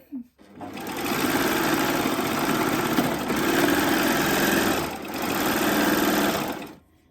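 A Babylock Acclaim sewing machine runs steadily through a thick seam of heavy denim, a loud continuous mechanical whir with brief dips around the second and fifth seconds as the needle labours over the bulky layers.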